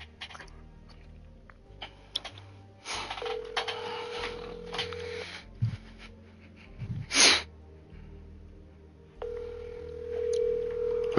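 An outgoing phone call rings with steady electronic tones, long level beeps separated by pauses. Faint background noises and a brief sharp burst sit under them.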